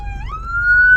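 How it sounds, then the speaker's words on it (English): A police car siren wails close by, its tone rising quickly and then holding loud and steady over a low rumble of traffic as the cars pass. "Wow, that's a lot of cop cars."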